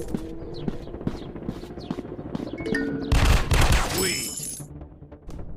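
Gunfire in a counter-terrorist first-person shooter game rings out in sharp bursts, with scattered single shots, then a loud rapid volley and shattering crash near the end, under a player's brief spoken exclamation.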